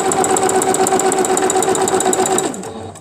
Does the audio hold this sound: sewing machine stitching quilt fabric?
yes